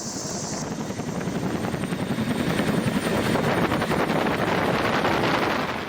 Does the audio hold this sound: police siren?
no